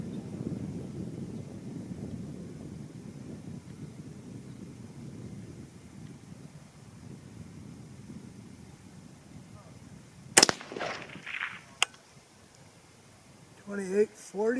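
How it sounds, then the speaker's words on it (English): A 6.5 Grendel rifle fires 90gn Nosler Ballistic Tip rounds outdoors: a single sharp, loud crack cuts through steady wind noise, followed by a faint second snap and some brief voice sounds. "I pulled the trigger a little bit too quick on that one, folks"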